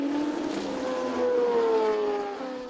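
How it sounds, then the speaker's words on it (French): A 1979 Ferrari 512 BBLM race car passes at a classic Le Mans event, its engine note droning steadily and shifting pitch as it goes by, loud and continuous with a slight swell midway. "L'imposante Ferrari 512 BBLM de"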